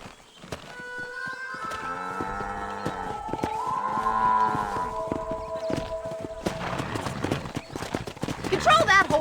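Horse hooves clip-clop in a steady rhythm while a horse neighs loudly, with cattle lowing nearby in the Red Dead Redemption video game, and people talk over the sounds.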